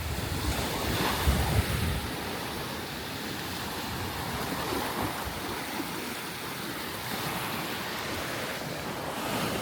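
Ocean surf rolls steadily onto a Barbados beach, a continuous broad wash of breaking waves mixed with wind rumbling on the microphone, with no talk.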